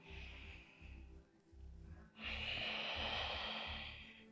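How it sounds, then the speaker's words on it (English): Slow deep breaths during a qi flow exercise, a long soft inhale followed by a louder, airy exhale, close and alone over a faint low rhythmic pulse in the background. "Again, breathing deeply."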